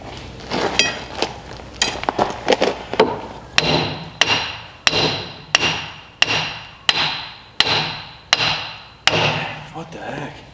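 Hammer blows on an under-slab insulation and vapor barrier job, struck in a steady series of about a dozen loud, sharp hits, with mixed clatter and talk in the first few seconds.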